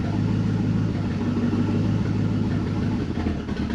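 A C4 Corvette engine idles roughly, a steady low rumble close by that sags and wavers toward the end as it hesitates.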